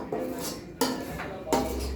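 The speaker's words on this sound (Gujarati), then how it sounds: "ત્રણથી ચાર ચમચી જેટલું અંદર પાણી એડ કરીને હલાવી લઈશું" A spoon stirs masala and peas in a metal pan after a splash of water, scraping and knocking in three distinct clinks against the pan, close and fairly quiet with no talking.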